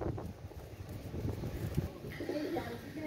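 Low, soft cooing of a pair of Pakistani Kashri pigeons sounds close by against a muffled background, with a murmuring voice partly mixed in.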